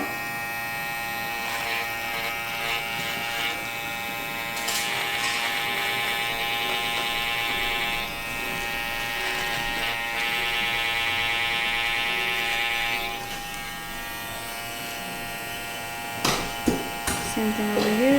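Electric hair trimmer buzzing steadily during a skin fade haircut, a sustained whine that rises and falls as it moves over the head, ending with a few clicks and handling knocks.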